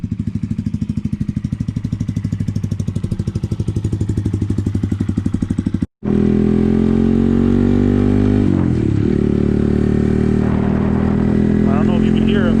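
A Honda Grom motorcycle engine fitted with a lightweight AODONLY titanium dual exhaust pulses at a steady idle, then cuts out briefly and restarts with a louder, fuller throttled drone that rises and holds close by.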